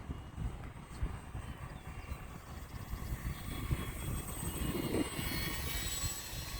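E-flite Valiant 1.3m radio-controlled airplane flying at full throttle, its electric motor giving a steady, fairly distant drone that holds for the whole stretch and swells slightly toward the end.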